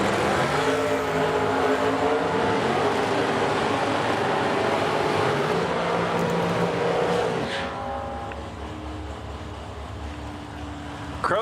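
A dragster and a Camaro launch side by side at a drag strip, their engines roaring loudly and droning as they accelerate away, then the roar drops and fades as the cars pull off into the distance.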